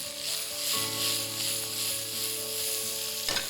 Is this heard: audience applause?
no